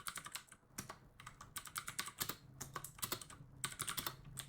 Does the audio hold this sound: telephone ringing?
no